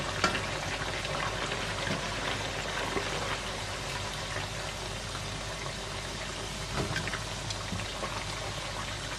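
Pork frying in a pan of hot oil, a steady, even sizzle with fine crackling spatters, close and moderately loud, continuing without talk.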